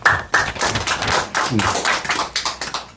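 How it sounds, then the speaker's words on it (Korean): A lecture audience applauds welcomed guests with brisk, irregular clapping from many hands, close and steady across the whole stretch with a few louder thumps. "그럼 계속 박수 한 번씩은 치시죠"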